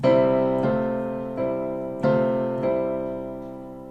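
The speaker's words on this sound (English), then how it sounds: "Now, with the sort of interlocked voicing, it's going to sound like this." Four piano chords in interlocked voicings struck one after another at a steady, unhurried pace, each ringing and decaying before the next, played alone.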